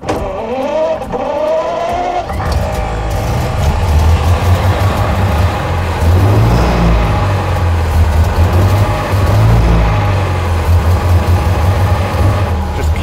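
A 1921 Duesenberg Straight Eight engine cranks, fires up and settles into a loud, steady low running note. It revs and swells in pulses over the rest of the take, close by, with no talking.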